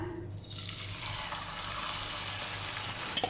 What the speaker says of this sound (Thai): พอกระทะเริ่มร้อนเราใส่ไก่ลงไปค่ะ